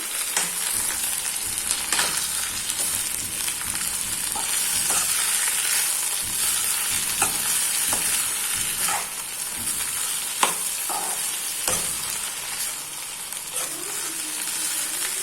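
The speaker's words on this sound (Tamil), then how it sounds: "இந்த புதினாவையும் அது கூட போட்டுக்கலாம் இதை நல்லா வதக்கி விட்டுக்கலாம்" Mint leaves sautéing in hot oil with green chillies for mint chutney, a steady close sizzle and crackle with occasional stirring scrapes throughout, no talking.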